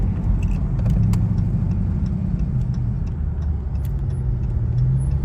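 A car drives past loudly with a dense low road and engine rumble that stays steady throughout, heard from inside a moving vehicle with no talk.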